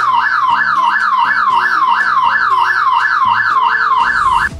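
A fire alarm siren in a workshop or office wails in a steady, fast rising-and-falling cycle, loud and continuous for several seconds before cutting off abruptly at the end, with no talk.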